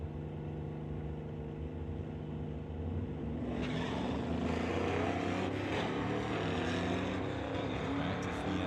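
A Mercury Cougar drag car runs at an old-time drag meet in Langley, its engine a loud, continuous rumbling roar that swells about halfway through and stays heavy and close to the end.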